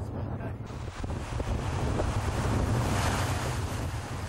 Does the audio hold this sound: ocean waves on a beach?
yes